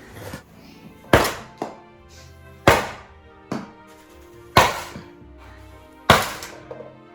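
A series of sharp, hollow thunks from a toy ball shooting game, five or six strong hits at irregular intervals as balls land inside, each ringing briefly.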